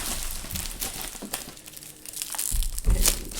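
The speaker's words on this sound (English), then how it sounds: "So let's keep unwrapping." Plastic packaging from a Cricut Explore 3 cutting machine is unwrapped: close, steady crinkling and rustling continues throughout, with a few louder crunches near the end.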